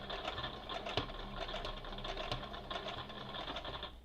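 A Brother CE1125PRW Project Runway edition sewing machine stitching, a fast, even mechanical whir and rattle of the needle running steadily and close, with no voices.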